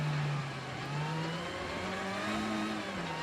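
Rally car engine in Assetto Corsa Rally, revving steadily and dipping in pitch as the driver left-foot brakes at the end of a stage, close and continuous with no talk.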